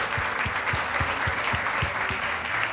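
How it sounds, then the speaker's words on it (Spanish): An audience at a folk shepherding event applauds Cincuentilla, who supplied shepherd's cakes. The clapping is continuous and fairly loud. Low, regular thumps sound beneath it roughly every quarter second, like rhythmic stamping or clapping in time. "yo pediría un aplauso para Cincuentilla"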